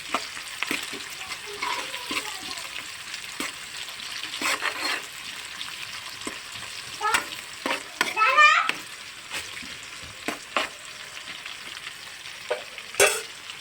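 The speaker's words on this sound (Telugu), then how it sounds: "ఉల్లిపాయ ముక్కలు వేయాలి ఫ్రెండ్స్. ఉల్లిగడ్డలు వేయాలి ఫ్రెండ్స్. వేసి ఒకసారి కలిపిప్పాలి." Onions sizzle in a pan as they fry in a village kitchen, with repeated scraping stirs and clinks against the pan, close and steady, while voices carry faintly in the background.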